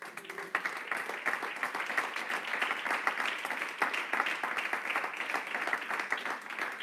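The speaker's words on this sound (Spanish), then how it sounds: "Denle un aplauso al Señor" Sustained applause from a church congregation, steady dense clapping throughout with no pause, fairly loud and close.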